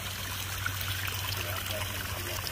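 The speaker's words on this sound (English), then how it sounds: "so the water's a little bit more stable now. Constant flow" Water flows at a steady rate through a pond wetland filter system, a continuous soft trickling and splashing over a low hum, with no voices.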